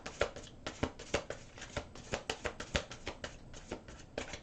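Rapid riffling and slapping of tarot cards being shuffled by hand, a steady run of crisp bursts, close and fairly quiet.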